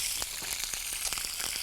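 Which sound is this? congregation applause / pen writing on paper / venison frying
venison frying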